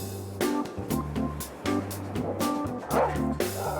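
Shekel, a dog at a dog park in Tel Aviv, gives a rapid series of sharp barks and yips at close range, mixed with whimpers and background noise.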